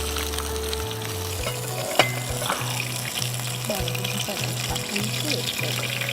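Chicken pieces for morog musallam fry in hot oil in a home kitchen with a steady, moderate sizzle throughout, broken by a few clinks and stirring sounds, while people talk over it.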